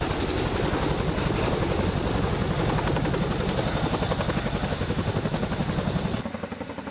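A CH-47 Chinook tandem-rotor helicopter flies overhead or nearby. Its loud, continuous rotor thumping and turbine whine hold steady, then thin out slightly in the final second.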